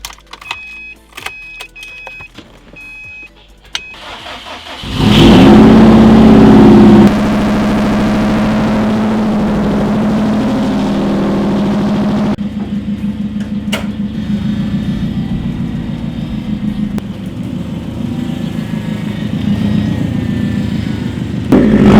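A Toyota 1JZ engine in a Nissan S13 cranks and catches, then settles into a steady, loud idle that runs on without voices.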